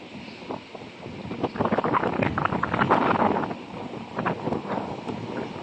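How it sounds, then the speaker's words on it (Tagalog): Strong wind buffets the microphone outdoors near the water, a rough, rumbling roar that swells and gusts unevenly with no voices over it. "malakas po ang hangin. Sobrang lakas. Naririnig nyo po ba?"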